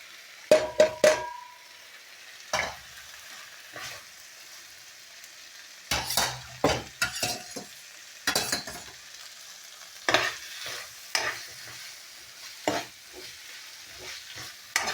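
A spice mix frying in a pan with a little sugar, close, sharp bursts of stirring and scraping against the metal over a quiet sizzle, irregular strokes spread across the stretch with no voice.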